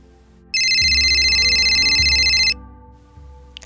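A telephone rings once, loud and close, a steady electronic trill lasting about two seconds over low room hum, then stops.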